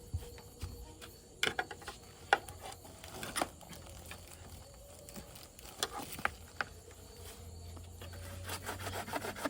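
A woven screen fence is cut close by in a quiet rural setting, with irregular rasping, sawing and rubbing strokes that come in bursts and stay fairly faint, with no talking.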